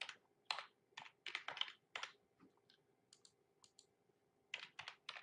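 Irregular bursts of clicking keystrokes on a computer keyboard while typing a short phrase, close and fairly quiet, with brief pauses between clusters of keys.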